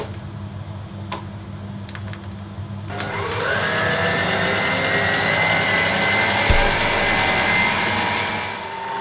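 An electric mixer beats Victoria sponge cake batter, switching on after about three seconds of quiet kitchen ambience to a loud, steady whirring drone that holds to the end with a brief knock midway.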